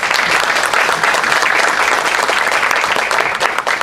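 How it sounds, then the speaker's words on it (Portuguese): Loud, sustained applause from an audience at a medical talk on rare respiratory diseases, many hands clapping densely and continuously throughout. "a salva de palmas para a Cris"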